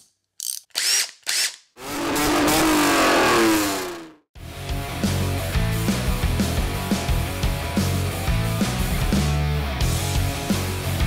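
A 2006 Dodge Magnum SRT8 Hemi V8 cranks and fires up, with a few short clicks, a long whirring crank, a pause, then a loud, rough, rumbling idle running steadily close by.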